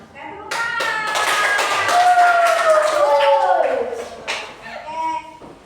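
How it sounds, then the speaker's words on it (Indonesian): A classroom of children clapping their hands together, a busy patter of claps with young voices talking and calling out over it, close and fairly loud before trailing off. "Oke, tepuk tangan"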